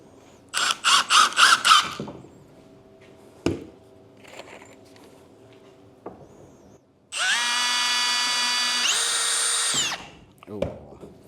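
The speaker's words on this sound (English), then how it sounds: "We're attaching these with 1 5/8 inch screws." A cordless power drill driving 1 5/8 inch screws into chicken coop boards: a brief stuttering burst, then a sustained loud whining run that rises in pitch before stopping, with knocks and faint talk between.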